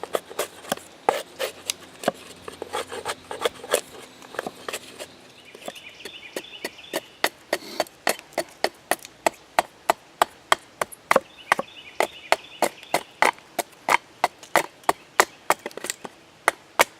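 An axe chops and trims wood for a bow drill set, close by. Sharp knocks come first at an irregular pace with some scraping, then settle into a long run of steady, evenly spaced hard chops.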